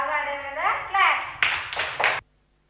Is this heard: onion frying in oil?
no